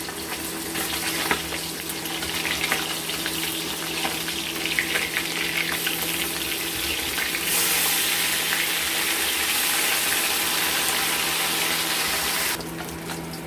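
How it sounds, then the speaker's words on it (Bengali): Rohu fish frying in hot mustard oil gives a steady, close, broadband sizzle that runs without a break and grows a little louder partway through; no one speaks. "তেলটা গরম হয়ে গেছে এবার এবার আমরা মাছগুলো ভেজে নেব"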